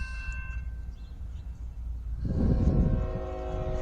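A westbound CSX freight train in Fostoria, Ohio rolls up, starting as a low rumble and turning loud and near partway through, with sustained tonal horn blasts over the heavy wheel and engine roar.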